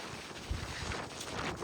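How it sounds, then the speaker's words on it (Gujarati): Strong wind gusting across an open stretch of Girnar mountain near Junagadh, a steady rushing buffet on the microphone with low thumps, continuous and close throughout. "જગ્યામાંથી ફૂલ પવન આવે"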